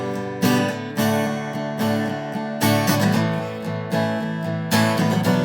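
Acoustic guitar strums a song in a steady four-beat pattern, adding quick up-strum flurries before each chord change, full and close with no voice.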